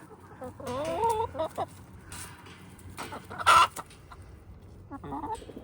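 Homestead chickens cluck in short bursts at close range, several calls spread irregularly over a quiet background.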